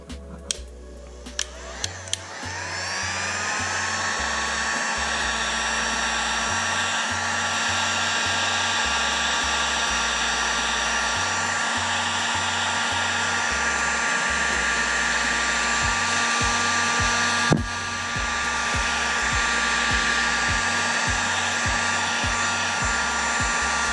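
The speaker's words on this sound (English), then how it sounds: "watch what happens when I take the heat gun to it" Heat gun blowing on the plastic of a TTR 230 dirt bike, starting with clicks then a loud, steady high whirring roar held close for the whole stretch, with a sharp knock partway.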